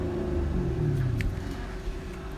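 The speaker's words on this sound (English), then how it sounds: "this is what it sounds like in sport mode." A 2017 Camaro 2SS V8 exhaust in sport mode, a steady deep low rumble at idle, close and continuous with no talking.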